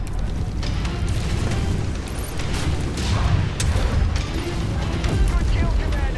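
Ammo explosions go off in MechWarrior 5: Mercenaries as a Jaegermech is destroyed, a dense run of booming blasts and crashing impacts over a steady low rumble, with a game voice speaking briefly.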